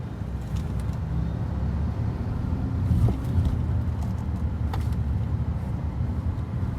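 A diesel car driving smoothly on a road, heard from inside as a steady low engine and road rumble with some wind noise, no talking.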